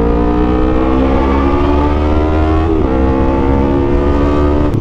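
A Yamaha R3 motorcycle engine idles and revs through a loud, short stock exhaust. A steady, harsh drone holds up close and loud, with a slight dip and recovery in pitch midway and no talking.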